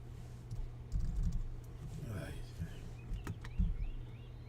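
Keys on a computer keyboard clack in scattered bursts during a live stream, soft and uneven taps under a low electrical hum, with brief voices in the background.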